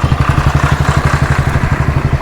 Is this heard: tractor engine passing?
yes